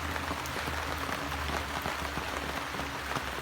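Steady rain pours down during a storm in Thailand in a dense, continuous hiss with scattered drop patters, loud and enveloping, no voices.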